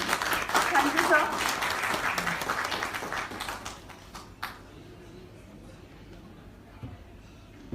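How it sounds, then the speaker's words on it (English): Audience applause welcoming the session chair to the dais at a seminar hall, dense clapping that is strongest at the start and fades away over about four seconds into quiet room tone. "Let us give a huge round of applause and welcome him."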